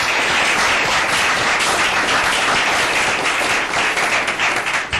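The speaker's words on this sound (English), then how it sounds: "let's give Roshana a round of applause" A room full of people applauds steadily at a city council meeting, the dense clapping filling the whole stretch at close range and thinning slightly at the very end.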